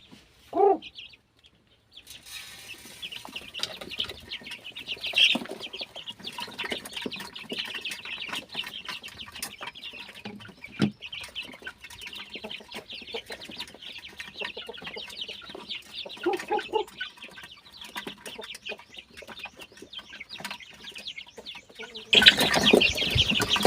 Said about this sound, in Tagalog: nandito tayo sa ating manukan, sa ating mga sisiyo na 1 month old